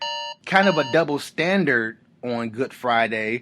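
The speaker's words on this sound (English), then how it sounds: "That's my alarm." A phone alarm gives a steady electronic tone for a moment at the start, then fades under a man's conversational speech that runs through the rest.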